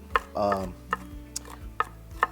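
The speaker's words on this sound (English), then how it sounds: "Then we're just going to chop them up." A knife chops pecans on a cutting board, with sharp, evenly spaced taps at a steady rhythm close to the listener. A brief clatter sounds early on.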